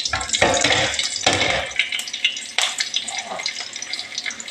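Long-sliced onions and green chillies hit hot oil for chira pulao, with sharp bursts of sizzle and spatter that crackle loudly, then settle into a busier, uneven frying hiss.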